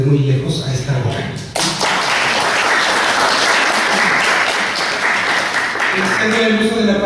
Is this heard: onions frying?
no